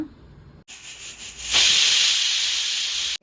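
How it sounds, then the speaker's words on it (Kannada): A pressure cooker holding tomato and chayote curry lets off one whistle: a high, loud steam hiss with a piercing tone. It surges halfway through and holds steadily, then cuts off abruptly, with no voices. "ಕುಕ್ಕರ್ 1 ವಿಷಿಲ್ ಆಗಿದೆ"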